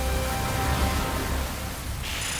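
A heavy corrosive downpour in a doomsday animal documentary, a dense continuous hiss of rain with low rumbling underneath, loud and with no talk over it.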